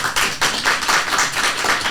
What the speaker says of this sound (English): We can clap that up.